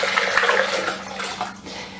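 Cold water, a litre of it, pours steadily into a blender jar holding cooked basmati brown rice and a pinch of salt, a close, continuous splashing rush lasting the whole moment.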